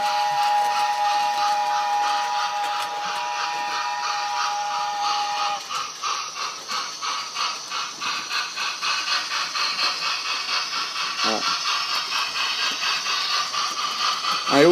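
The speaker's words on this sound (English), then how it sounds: "Let's have a train whistle." A model train's steady, shrill whistle tone with hissing steam, then a rhythmic chuffing and rattling takes over, loud and close, with no talking.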